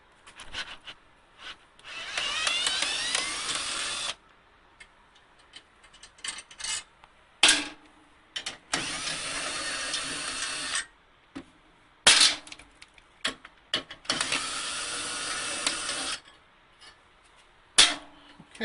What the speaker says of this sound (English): now we're going to remove our 4 screws of our frame.